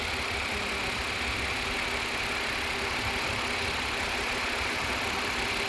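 A 2006 Ford Five Hundred with the 3.0L engine idles in a steady, unbroken hiss-laden rumble. It stays even and moderately loud throughout, with no voices.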